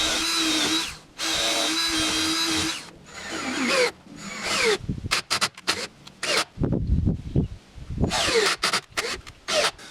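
A power drill drives thin lag screws into a wood post in repeated bursts, first two long steady whirring runs, then many short choppy pulses as the screws bite and seat.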